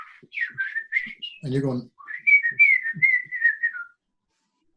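A man whistles in imitation of a bird's song, quick chirping trills and sliding phrases close and clear, broken by a brief spoken word partway through.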